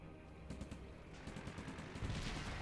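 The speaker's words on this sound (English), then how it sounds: "Our troops are under fire." Rapid gunfire and machine-gun bursts in the World War II strategy game Blitzkrieg 3, a quiet, distant-sounding rattle of overlapping shots that grows slightly denser toward the end, with no voices.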